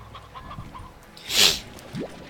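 Chickens clucking in the Slime Rancher video game, a short mid-level burst of fowl calls standing alone with no talk over it.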